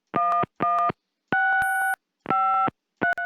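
Touch-tone keypad beeps as a phone number is punched in during the Gabriel Knight adventure game: five clear dual-tone presses in an uneven rhythm, each lasting about a third of a second, crisp and alone with no talking.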